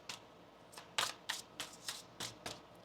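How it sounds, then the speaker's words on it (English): Tarot cards are shuffled close by in a quiet room: about eight brief papery riffles and slaps in a loose, steady rhythm, with no voices. "One more shuffle here."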